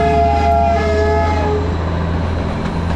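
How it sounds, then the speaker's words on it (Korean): A diesel train passes through Darjeeling, loud and close, with a steady low engine drone and bright sustained horn-like tones over rumbling wheels that stay constant through the clip. "디젤 기차다."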